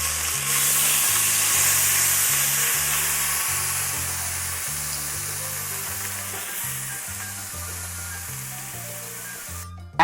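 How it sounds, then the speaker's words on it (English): Beef searing in a hot oiled frying pan for borracho tacos, a steady broadband sizzle that holds loud and close throughout, with low music underneath and no talking. "As you put your meat into the pan,"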